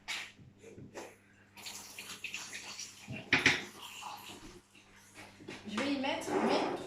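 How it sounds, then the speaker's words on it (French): A 1.25 litre pitcher is rinsed under a running kitchen tap, with splashing water coming in uneven bursts, louder toward the end, while a person talks. "Là, je vais rincer juste ça."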